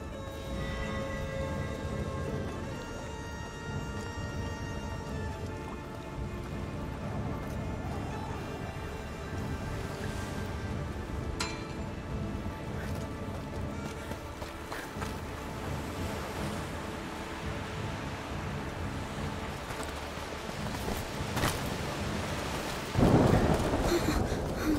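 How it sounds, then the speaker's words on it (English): Steady rain and a thunderstorm in the video game A Plague Tale Requiem, with continuous rainfall, distant rumbling thunder and a louder crack near the end. "The rain is getting worse. It's just a storm."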